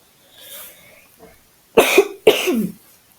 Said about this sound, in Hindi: सॉरी, बहुत खांसी आ रही है।